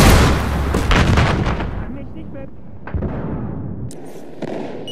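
A grenade blows up in the shooter game Battlefield Hardline, a loud booming burst right at the start that rolls and fades over several seconds, with scattered gunfire and a voice over it.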